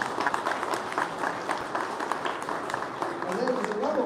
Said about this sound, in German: Bitte Applaus für die Technik.